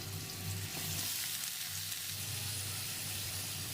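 Carrot and potato pieces sizzle in hot oil with nigella seeds, a steady bright frying hiss with a low hum beneath, no talking.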